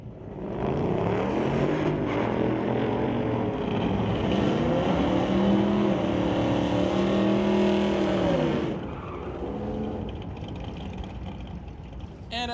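Bracket drag race at the JBS Equipment ET Series between a 2024 Ford F-150 pickup and a 2022 Mustang GT, with loud, sustained engines roaring and revving at full throttle, then fading slightly as the vehicles pull away.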